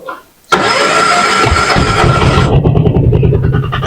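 A vehicle engine starts after a short crank, catching abruptly into a loud, steady mid-pitched running idle that settles slightly after a few seconds, close by.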